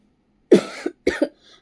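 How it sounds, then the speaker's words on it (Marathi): A child with a viral illness coughs twice in quick succession, close and fairly loud, each cough a short harsh burst in a quiet room. "अजून थोडं खोकला आहे त्याला"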